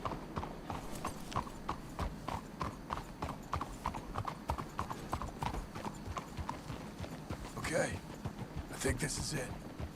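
Horse hooves clip-clopping on a town street in Red Dead Redemption 2, a steady rhythmic trot of close, distinct hoof strikes throughout, with brief snorting or rustling bursts near the end and speech present.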